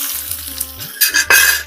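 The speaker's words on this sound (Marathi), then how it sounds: "आता आपण कांदा टाकूया." Onion dropped into a hot pan on a small stove after curry leaves, a loud burst of close sizzling rising sharply in the last half-second over a low droning hum.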